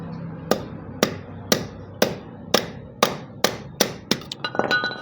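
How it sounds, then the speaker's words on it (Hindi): A hammer strikes rivets on an electric motor about ten times in a steady rhythm, each hit sharp and close, with a few lighter metallic taps at the end. "तो हमको सिर्फ आमने सामने की 2 रिपटे हथौड़ा से ही ठोकनी होंगी और बहुत ही सावधानी से"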